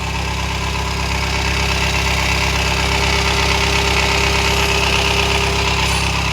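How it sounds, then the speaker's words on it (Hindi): A Honda diesel car idles after an oil cooler repair, its engine running as a steady, loud, close rumble with a constant low drone and mechanical clatter, no talk. "गाड़ी स्टार्ट है। मैं आपको आवाज़ सुना देता हूँ।"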